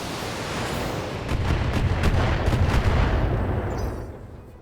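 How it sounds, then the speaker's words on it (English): Long-range missile barrage fired in the mech combat game BattleTech, a dense rumbling roar of overlapping launches and impacts that swells and holds for several seconds, then fades out. "That's gonna take 2 missile barrages to get."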